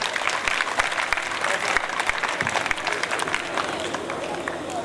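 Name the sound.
audience applause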